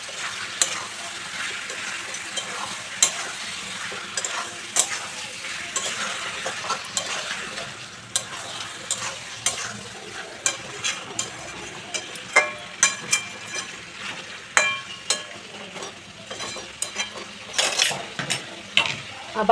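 Chicken curry with chopped tomato, capsicum and onion is stir-fried in a pan, a steady sizzle running throughout with frequent scraping clicks of the spatula against the metal, loud and close.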